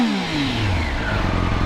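Triumph Daytona 765 motorcycle engine revving up, a brief rising snarl that climbs in pitch and holds loud and close.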